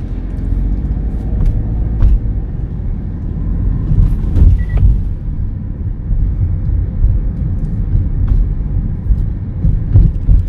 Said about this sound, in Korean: 기어 놓고 출발.